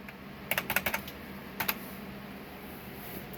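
A computer keyboard is typed on in two short bursts of quick, crisp keystrokes, close and fairly quiet, followed by near silence with a faint room hum.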